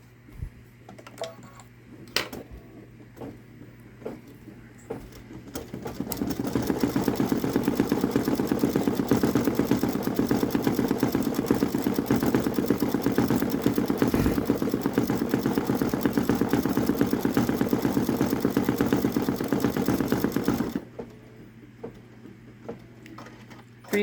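A Babylock Solaris Vision Journey embroidery machine stitching a peacock design runs with a steady, dense mechanical whir and rapid needle rhythm for about fifteen seconds, close by, starting up and then stopping, with quieter handling clicks before and after.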